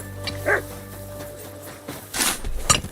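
A dog in Kingdom Come: Deliverance II gives a couple of short barks over steady game ambience, one near the start and a louder burst toward the end.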